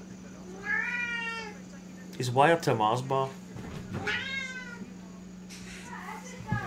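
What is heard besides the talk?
tabby cat meowing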